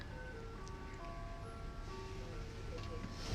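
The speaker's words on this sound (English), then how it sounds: "I'm hearing music like an ice cream truck" Ice cream truck chimes play at a campsite, a steady tinkling melody heard from a moderate distance under a constant hum of background noise.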